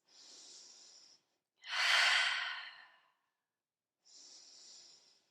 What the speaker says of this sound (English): Taking a few deep breaths.